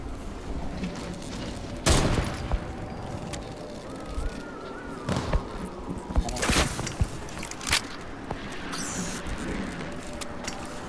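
Scattered gunfire from a battle-royale shooter game, a few sharp loud shots at irregular intervals over a busy background of game noise and ambience.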